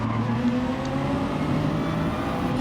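Car engines in the racing video game Gran Turismo Sport drone and rev steadily throughout at moderate level, with harmonic engine tones holding and shifting slightly as the cars run; no one talks.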